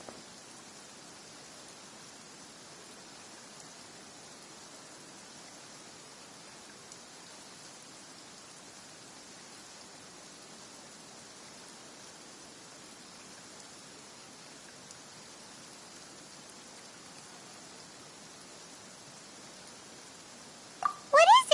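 Steady, soft video game rain hisses continuously without pause, even and fairly quiet throughout, with a brief louder disturbance right at the end.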